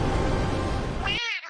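Cat meowing in an AI-generated clip: a single rising, tonal meow near the end, heard over a dense, loud bed of noisy background sound that cuts off just before it.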